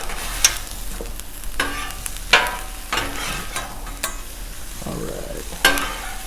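Broccoli and onions frying on a Blackstone griddle, a steady close sizzle broken by a few sharp spatula scrapes and clanks, with a brief spoken remark.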